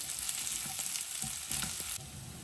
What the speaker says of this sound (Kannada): ಇಷ್ಟು ಐಟಮ್ನು ಎಣ್ಣೆಯಲ್ಲಿ ಚೆನ್ನಾಗಿ ಫ್ರೈ ಮಾಡಿ